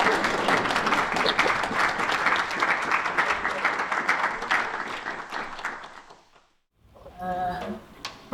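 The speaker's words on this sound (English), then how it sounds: "a round of applause for Robynne" An audience at a Cornish music archive symposium claps steadily in a dense, loud round of applause that fades out, followed after a brief pause by a voice starting to speak.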